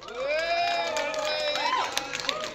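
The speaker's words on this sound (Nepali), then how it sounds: "मलाई विश्वास छ सबैभन्दा बढी ताली यही नाममा बज्छ" A crowd at a film event cheers and shouts for an actor being introduced, excited voices rising and sliding over a busy background, with scattered claps toward the end and people talking throughout.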